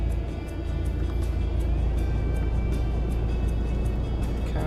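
A car reverses slowly around a left-hand corner during a driving lesson, giving a steady, low engine drone inside the cabin with a faint rhythmic ticking throughout.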